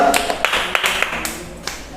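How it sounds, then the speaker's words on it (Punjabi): Children clap in a classroom lesson, making a short run of sharp, loose, uneven claps that fades toward the end. "ਤਾੜੀਆਂ ਮਾਰੋ ਸਾਰੇ ਬੱਚੇ"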